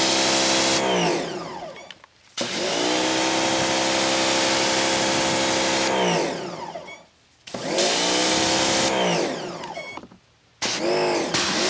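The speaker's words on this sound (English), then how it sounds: "Now it's time to take the pressure washer and rinse these off." A pressure washer sprays car floor mats in long, loud, steady hissing bursts, stopping briefly between passes three times.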